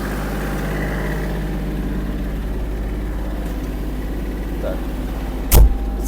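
A small Kubota GL-320 mini tractor engine idles steadily with a low, even drone close by, one brief knock or clunk near the end.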